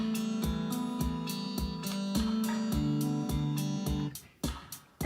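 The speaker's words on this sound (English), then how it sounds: "And it sounds like this then with the guitar and the loop." Electric guitar riff played over a pre-made drum loop, with regular sharp drum hits under a steady sustained guitar line, loud and close, ending in a brief drop and a few scattered hits.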